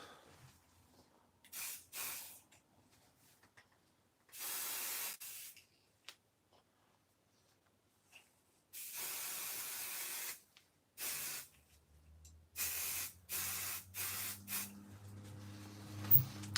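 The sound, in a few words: spraying from a spray can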